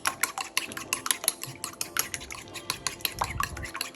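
A spoon stirs an egg and honey mixture, rapid rhythmic clinks and taps against the bowl continuing close and steady throughout, with a soft scraping swirl near the end.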